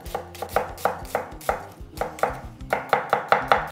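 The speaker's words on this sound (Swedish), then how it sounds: "Vi skivar bara ner löken," A knife chops onion on a cutting board for a South African bobotie, giving rapid close, rhythmic strikes in a steady run of about a dozen crisp knocks with no talking.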